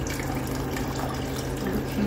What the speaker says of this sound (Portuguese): Vou botar uma água quente.